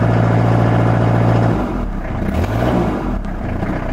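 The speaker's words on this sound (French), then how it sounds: "Est-ce qu'il redémarre? C'est là, redémarrer un coup." A Renault Master 2.5 diesel van engine runs loud and close with a steady low hum, then dips and settles into a rougher idle with a brief rising whir, and nobody speaks.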